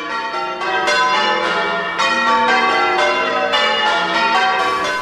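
Church bells in Bollington, cast in 1880 by John Taylor and Company, peal continuously in a loud, ringing, overlapping sequence of strikes with a steady cascade of tones and no voices.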